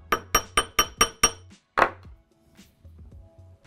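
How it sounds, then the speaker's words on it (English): A hammer strikes a wire ring on a steel mandrel, six quick ringing metallic taps in a steady rhythm, then a pause and one final louder blow, close and clear with no talking. "you can hammer on your steel mandrel."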